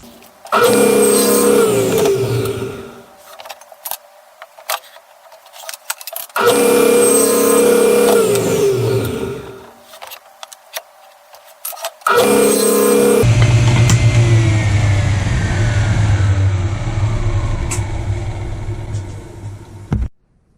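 A thickness planer feeds a board through on repeated passes, with three loud spells of steady whining cutting noise broken by near-silent gaps, the last pass a longer, lower, sustained drone.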